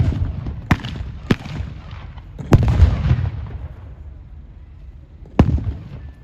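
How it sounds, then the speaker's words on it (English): Blank gunfire at a WW2 battle re-enactment at Tankfest, five sharp outdoor shots spaced irregularly, some with rolling low echoes and a heavier boom in the middle, loud against a quiet field. "Incoming fire."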